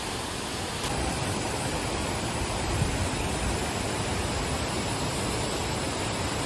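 Waterfall at Plitvice Lakes in Croatia, viewed from a lakeside restaurant: a steady, dense rushing roar that stays even and unbroken throughout, with no voices.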